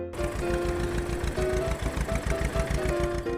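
Tractor engine running steadily with a rapid, pulsing chug and a droning hum, loud and close throughout with no voices.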